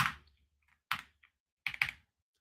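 Typing on a computer keyboard while coding in an IDE, three short close bursts of quick key clicks separated by quiet pauses, with no voices.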